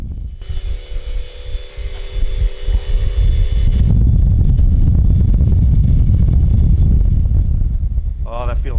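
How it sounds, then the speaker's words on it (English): An Emax GT2826 860Kv brushless motor spins a propeller on a bench test. A lighter tonal whine builds into a loud, steady, close roar that continues, and a brief voice sound comes at the end. "Let's listen for vibrations, and then we'll spin it up and look for the numbers."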